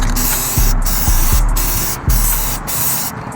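Red spray paint hisses from an aerosol can onto a BMW E90-series engine bay in several close, loud bursts, each with a short rattle or pause between, and no voices.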